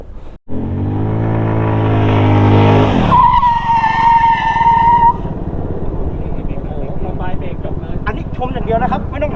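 A scooter brakes hard and skids on a safety riding training course: a steady engine drone, then a sharp tyre screech that holds for about two seconds before fading into rough rolling noise, with a voice talking over it.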